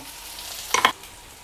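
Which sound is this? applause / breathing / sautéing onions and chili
sautéing onions and chili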